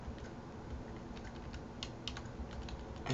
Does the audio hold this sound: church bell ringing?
no